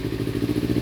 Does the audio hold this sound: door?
no